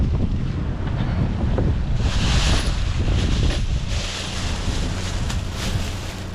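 Gusty wind blows outdoors at a street-side dumpster, roaring and buffeting the microphone with a steady rush that swells in the middle.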